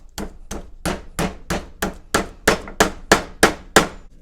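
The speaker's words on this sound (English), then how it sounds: "I'm going to hammer it a little bit more" A hammer pounds meat flat for chicken fried steak, about eleven sharp, evenly spaced thwacks in a quick steady rhythm, close and loud with near silence between blows.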